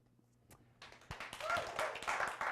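A small studio audience starts clapping after a quiet moment, a few scattered claps building into a fuller round of applause near the microphone.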